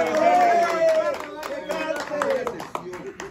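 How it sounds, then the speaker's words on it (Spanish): An audience claps at a birthday celebration, a scattered patter of hand claps running beneath a man's loud, close voice. "¡A ver, aplauso!"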